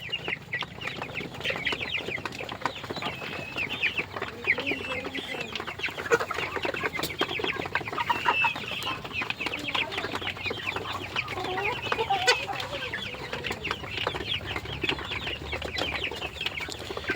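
Dense, continuous chatter of many quails calling together at close range on a farm, a busy overlapping flock sound with no talking.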